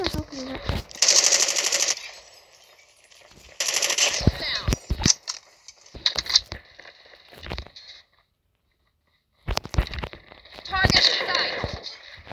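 Automatic gunfire from Call of Duty Mobile erupts in several loud rapid bursts of varying length, separated by quieter gaps and game sounds, with a player talking between them.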